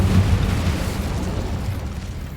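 A fire spell cast in a Hogwarts video game bursts out as a loud, close whoosh and boom that rumbles on for a couple of seconds, with no talk over it.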